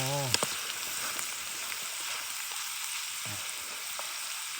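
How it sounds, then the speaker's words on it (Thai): Flowers are stir-fried in a pan at a campsite beside a cool forest stream, making a close, steady sizzling hiss with occasional stirring clinks and a short tonal whistle at the start. "เราไม่ลวกแล้วเราจะผัดทีเดียวเลย"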